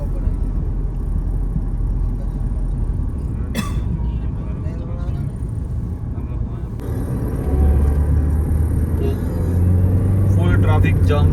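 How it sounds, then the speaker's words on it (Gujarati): Traffic jam on the mountain road to Sonprayag: a constant low rumble of idling and creeping engines, with a vehicle shifting closer partway through and brief brake hiss, while people talk nearby. "ફૂલ ટ્રાફિક જામ છે, ચક્કા જામ."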